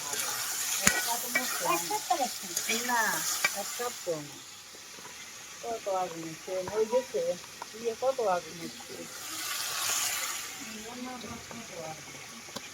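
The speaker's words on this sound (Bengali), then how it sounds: "এখানে আমি মশলা কষিয়ে নিলাম" Spice masala frying and being stirred in a pan on a home kitchen stove, a steady sizzle with scraping stirs underneath, while someone talks over it for most of the stretch.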